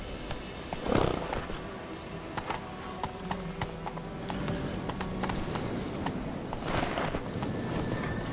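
Hooves of the horse Roach clip-clop in a steady rhythm in The Witcher 3 game, with a brief whinny and scattered clicks over a constant ambient bed, fairly close and moderately loud.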